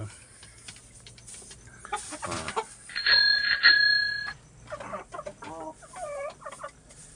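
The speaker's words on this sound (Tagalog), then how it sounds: "Ito po yung isang alaga o Dong Tao Chicken White." White Dong Tao chickens cluck and call nearby in a poultry pen, with a bright bell-like ring partway through and several more bird calls following.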